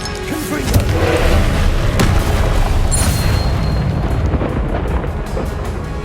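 A loud, booming Confringo explosion spell from Hogwarts Legacy cracks out early, then gives way to a sustained, rumbling roar that holds steady at high volume to the end.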